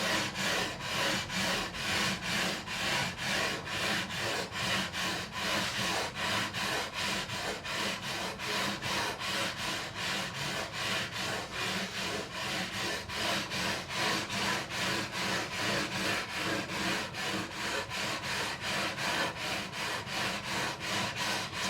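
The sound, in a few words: leveling beam with 400 grit sandpaper sanding guitar frets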